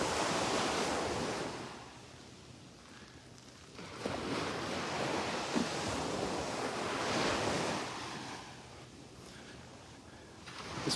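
Ocean surf rolls onto the beach at Delnor-Wiggins park, broad washing waves swelling and fading in slow cycles, with wind buffeting the microphone and no voices.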